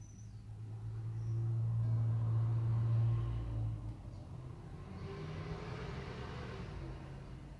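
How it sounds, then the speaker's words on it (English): Passing traffic drifts in through open windows, a low rumbling car swelling and fading, then a softer steady hum of more vehicles in the distance. "Sorry for all the traffic noises."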